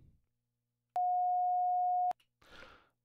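A pure steady sine wave tone sounds alone for about a second, starting and stopping abruptly, with silence before it and a brief soft noise afterward.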